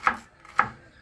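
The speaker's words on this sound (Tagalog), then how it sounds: "naghihiwa-hiwa na siya ng ampalaya" A knife chops through bitter gourd (ampalaya) on a cutting board, two crisp, close cuts about half a second apart, with no talk.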